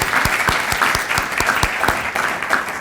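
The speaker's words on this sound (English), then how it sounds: "So let's give him a round of applause." An audience at a high school press conference claps steadily, a dense even applause with a few sharp low thumps punctuating it, close and continuous.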